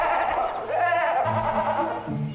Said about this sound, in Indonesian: Ada kambing kah?